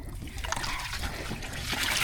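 Water runs steadily into a container on a cold farm morning, a constant trickling splash that builds slightly louder toward the end.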